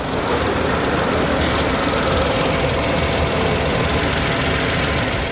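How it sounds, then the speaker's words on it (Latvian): A running car engine with one cylinder sounding different from the rest gives a steady, rough, knocking rumble, one beat in its rhythm slightly uneven, continuous and close. "viens no cilindriem motorā skan mazliet citādāk nekā pārējie"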